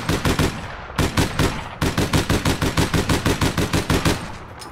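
Rapid automatic gunfire in a video game, a short burst, a brief pause, then a long run of evenly spaced loud shots in quick rhythm, close and alone without talk.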